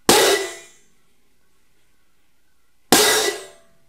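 Marching band crash cymbals struck twice, each bright metallic crash cut off quickly by a short choke, the two hits about three seconds apart with silence between them.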